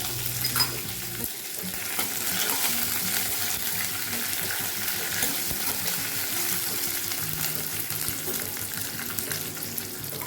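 Steady, loud sizzling of green chilies and curry leaves frying in hot oil, a continuous crackle and hiss with some stirring scrapes, no voices.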